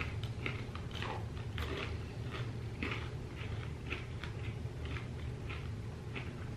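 Soft caramel popcorn chewed close to the mic, quiet irregular crunches and moist mouth sounds repeating steadily without talk.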